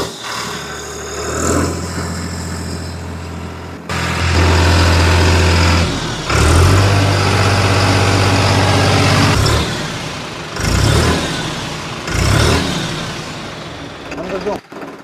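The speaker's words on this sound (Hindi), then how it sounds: "थोड़ी टर्बो की आवाज़ भी सुना देते हैं।" A New Holland 3630 TX special edition 55 hp tractor diesel is revved hard in several loud, close bursts, each rising and falling back to idle, with a turbo whine on the revs.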